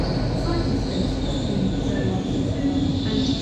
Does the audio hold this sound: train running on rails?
yes